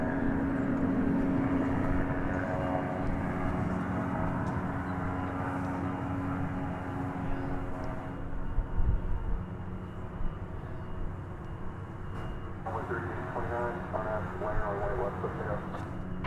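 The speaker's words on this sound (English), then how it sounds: "This is American Eagle Flight 3829, going to Midland, Texas. It's an Embraer 175." An American Eagle Embraer 175 regional jet at DFW Airport gives off a steady, loud engine roar that fills the whole stretch, with voices and radio-like chatter running over it.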